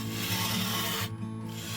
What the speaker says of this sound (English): Now it's time to start hollowing out the inside of the bowl